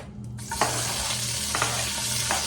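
Onions fry in a pan for a simple canned-fish dish, giving a steady, close hiss of sizzling with a few brief stirring scrapes breaking through; no one speaks.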